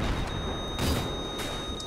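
Gunfire in the Battlefield 3 co-op mission Operation Exodus, heard as a dense, continuous battle din with a few louder bursts standing out against steady background noise.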